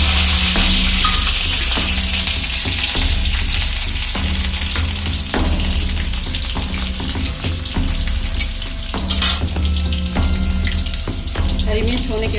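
Green chillies fry in hot oil in a pan, a loud, steady, close sizzle and crackle that lasts throughout, with a few stirring clinks and no speech.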